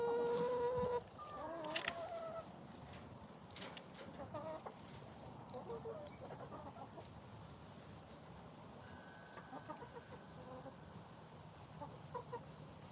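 Chickens in a coop cluck and squawk, a few louder calls up close at first, then softer scattered clucks over a steady background of buzzing insects and faint rustling.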